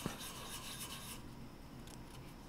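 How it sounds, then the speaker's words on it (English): A steady dry rubbing rasp of a sanding stick on metal, continuous and close, with a slightly brighter scratchy texture in the first half. "I'm using the sanding stick. And I'm rotating it around on it."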